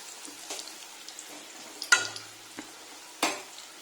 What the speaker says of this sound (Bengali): এবার কোপ্তাল ছেড়ে গ্যাসটা কমিয়ে দিতে হবে